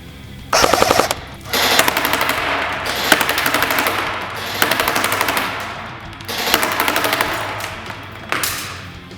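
An airsoft MAGPUL PTS Masada AKM fires four loud, close full-auto bursts, each a rapid mechanical rattle separated by short pauses.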